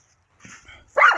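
A pet dog gives a short whine and then one sharp bark near the end, close and fairly loud, with no speech.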